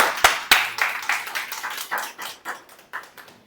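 Congregation clapping during a church service, a run of sharp, fairly close claps that start loud and irregular, then settle into a steadier, fainter rhythmic patter.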